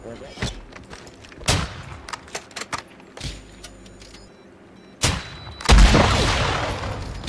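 Gunfire in the DMZ shooter game breaks out in sharp, loud bursts scattered across the clip, with a burst of sustained fire near the end.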